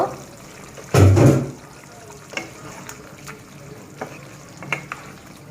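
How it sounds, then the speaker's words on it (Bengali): Beef curry (bhuna) simmering with added water, stirred in a pan so it won't stick: one loud scraping, sizzling burst near the start, then faint clicks and light scrapes over a quiet background. "এইভাবে নাড়লে আপনারা নিচে লেগে যেতে পারে, তার জন্য একটু নেড়ে দেব এভাবে।"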